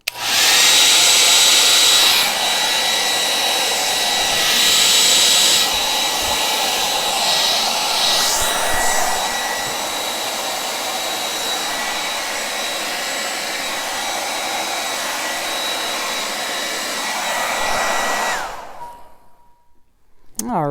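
A blower or hair dryer blows steadily across wet acrylic pour paint on a canvas, a loud continuous whooshing hum that shifts slightly in pitch as it moves, then cuts off near the end.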